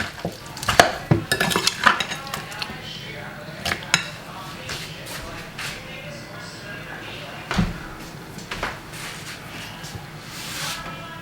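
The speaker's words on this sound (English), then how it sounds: "Let's give it a lovely mix, as you can see." Jamaican oxtail marinade being mixed: irregular stirring and scraping with sharp clinks of a utensil against the bowl, close and fairly loud.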